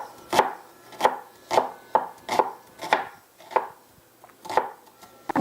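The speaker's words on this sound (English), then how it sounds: "And I'm gonna cut 3 little onions." A knife chops three small onions for red sauerkraut in about nine crisp, evenly spaced strokes on a board, close and loud with quiet gaps between cuts.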